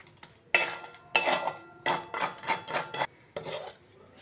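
Semolina, coconut and sugar mixture stirred in a wok, with several scraping, rasping strokes of a spoon against metal in uneven bursts, close up and with no voices.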